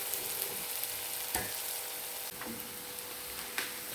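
Onions fry in a pan, a continuous close sizzle with occasional stirring scrapes and clinks.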